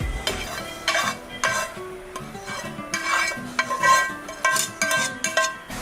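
Prawn cutlet mixture being stirred and mashed in a bowl with a utensil, irregular scraping and clinking strokes in short bursts, close and moderately loud, no talking.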